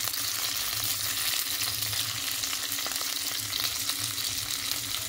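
Crabs sauté in a pan with a fish marinade, a dense, even frying hiss up close with light stirring scrapes throughout and a low hum beneath.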